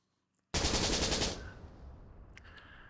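Gunfire from a war sound effect bursts in suddenly as a dense, loud rattle, then gives way to a fading rumble with a few faint distant cracks.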